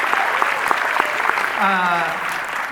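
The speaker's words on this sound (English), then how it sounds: "clap for Carl Barks" A convention-hall crowd at the D23 Expo applauds Carl Barks during a DuckTales panel: dense, steady clapping with scattered cheers, and a voice talking over the ovation partway through.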